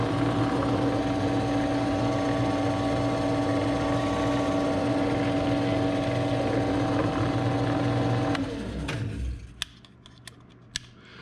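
A drill with a small bit bores a starter hole into the hood of a CFMOTO ZForce 950 Sport, its loud, steady motor whine running for about eight seconds before winding down, followed by a few faint clicks.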